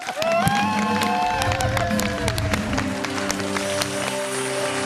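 A TV studio audience cheers and claps for guests on a Turkish talk show, a loud, continuous crowd roar with whistles and shouts running through the whole stretch.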